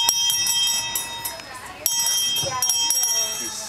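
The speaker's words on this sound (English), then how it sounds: "He's ringing the bell." A small bell on a zoo train rings in quick repeated dings from a child's hand, bright and close, with a busy background of chatter and movement.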